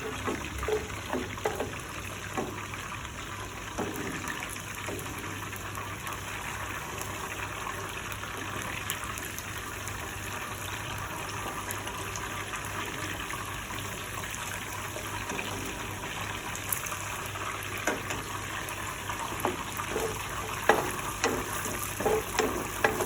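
Ginger, garlic and green chili sizzle steadily in hot oil, a continuous near frying hiss with scattered crackles and light stirring scrapes throughout, no voices.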